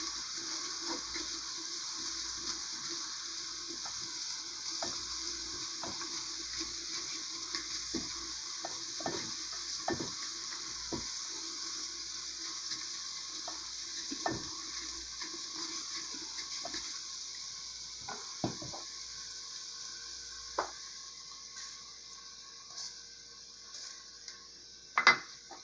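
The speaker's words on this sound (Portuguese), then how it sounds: "Deixar o alho estar dourando aqui." Garlic fries and browns in a pot for a taro broth, a soft, steady sizzle with irregular scrapes and taps of a spoon stirring, fairly quiet and close, ending on a sharper knock.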